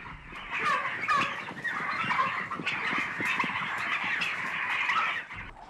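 Crowded turkeys in an overcrowded farm shed, a dense, continuous chorus of clucks and calls from many birds with occasional louder cries rising above the din.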